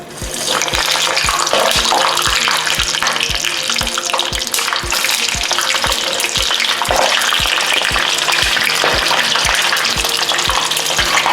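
Lumpiang shanghai, Filipino pork egg rolls, frying in hot oil, a loud continuous sizzle and crackle with bursts of splattering oil and a faint regular ticking underneath, no speech.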